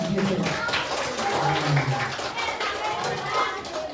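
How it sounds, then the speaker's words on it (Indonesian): Children clap during a classroom coding activity, a run of scattered handclaps mixed with lively young voices chattering over them. "Oke, tepuk tangan."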